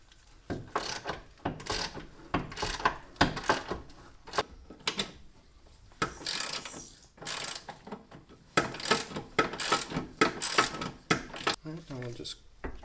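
A ratchet wrench cranks down the lower control arm bolts on an Audi B5 S4 suspension, giving rapid bursts of loud close pawl clicking in repeated runs with brief pauses between strokes.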